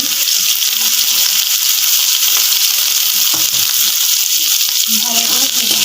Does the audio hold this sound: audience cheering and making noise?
no